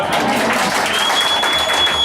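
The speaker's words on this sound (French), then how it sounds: "Est-ce que vous les acceptez avec des acclamations?" A church congregation in Kinshasa breaks into applause and acclamations during a sermon, a short, loud burst of crowd clapping with a raised voice or cheer riding over it.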